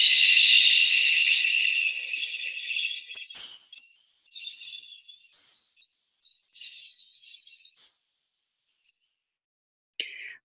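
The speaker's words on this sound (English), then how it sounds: "we're going to make the sound shh" Several people make a soft, breathy shh sound, first one long sustained hush, then shorter fading shushes with pauses between them, and a brief final burst.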